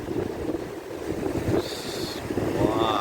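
North Sea waves roll in and crash on the shore at Aberdeen with a steady wash of surf, loud and close, buffeted by wind noise on the microphone.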